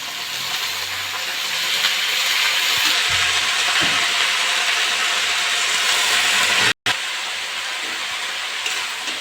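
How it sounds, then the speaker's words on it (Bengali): Potatoes and red amaranth greens dropped into a hot frying pan with fried onions, giving a steady loud sizzling hiss that runs on unbroken for several seconds and cuts out briefly near the end. "আমি এবার আলু দিয়ে দেবো আর শাকগুলো দিয়ে দেবো।"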